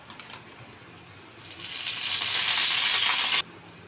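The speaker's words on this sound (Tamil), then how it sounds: "இப்போ எண்ணெய் ஊற்றிக்கலாம்." Oil poured onto a hot dosa griddle before frying fish, starting with a few light taps, then swelling into a loud, steady hiss that holds for about two seconds and cuts off abruptly.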